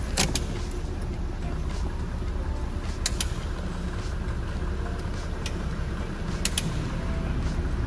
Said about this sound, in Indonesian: Saya coba akan tes jalan sekarang.